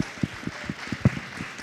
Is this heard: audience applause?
yes